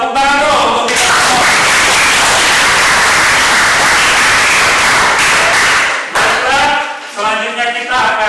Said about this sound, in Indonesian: Tepuk tangan dong untuk kita.